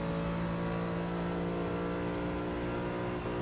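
A Ford GT accelerating at full throttle out of Eau Rouge at Spa in Forza Motorsport 6, a loud, steady high-pitched engine drone holding close and continuous with no talk.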